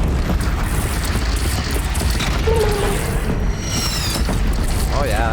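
Cannon fire in the Horizon Zero Dawn final battle: a dense, continuous wash of booming, rumbling game combat stays loud throughout, with brief tonal sweeps and a voice calling out partway through.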